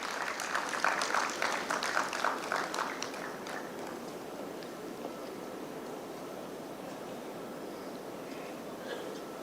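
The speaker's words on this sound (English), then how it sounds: "Please, a round of applause for her." Applause at a microfinance conference, a burst of scattered clapping in the first few seconds that quickly thins and fades into quiet room noise.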